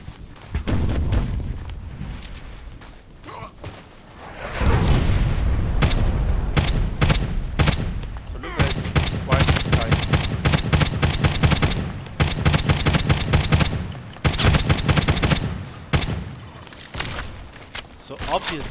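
Rapid bursts of automatic gunfire from an HK G36C in the shooter game Contract Wars, loud sustained volleys with brief pauses, someone talking over the shooting.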